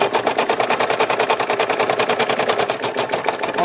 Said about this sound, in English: I don't know if you guys can hear the sound difference, but this thing is stitching a whole lot faster